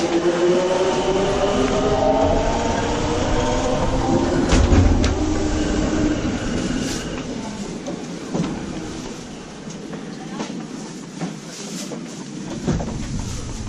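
Steady rumble and rolling noise from inside a moving train in Japan, with occasional clacks and rattles over the continuous drone.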